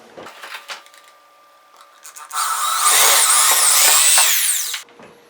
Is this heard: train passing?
no